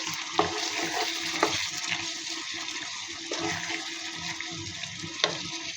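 Boiled beef tripe fries dry in a pan without added water, giving a continuous moderate sizzle and crackle with a few sharp clinks of a spoon against the pan.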